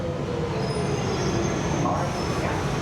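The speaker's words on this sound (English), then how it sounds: "So we're looking down to the Epping train." An Epping-bound London Underground train at St Paul's station, heard as a steady rumbling rail roar with a faint high squeal, busy station ambience and indistinct voices mixed underneath.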